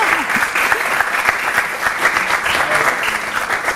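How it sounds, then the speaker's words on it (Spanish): Applause from a school audience at a live university show, a dense steady burst of clapping filling the short stretch at close range, loud and continuous with faint voices mixed in. "pues un aplauso también para Celia y para Pauli."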